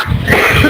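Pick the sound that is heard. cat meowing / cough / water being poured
cough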